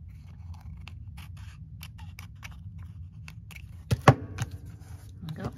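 Several crisp snips of scissors cutting paper, close by, with a brief louder cut near the end and a faint low hum underneath.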